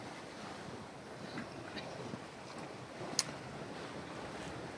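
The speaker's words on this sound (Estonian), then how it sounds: "Vahepeal isegi 7, 8, 9 meetrit sekundis on meil nüüd läänekaarte tuul vist" Strong west to southwest wind of about 7–9 m/s and waves while sailing from Lohusalu toward Kakumäe, a steady broadband rush of wind buffeting the microphone over surf, with one brief sharp knock midway.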